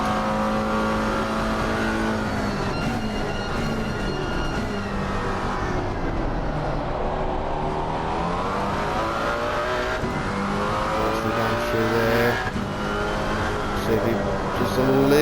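GT4 race car on a flying lap at Circuit of the Americas in Assetto Corsa Competizione, its engine droning and rising and falling in pitch through shifts and corners, heard under continuous commentary.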